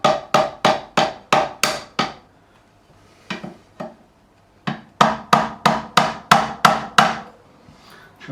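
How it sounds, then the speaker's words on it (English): A hammer taps sharply on a fret of a 2005 Gibson Les Paul guitar fretboard to loosen it, about seven quick even knocks, then a few softer taps, then another steady burst, close and loud. "I'm just gonna try and just loosen it just by tapping it with a hammer."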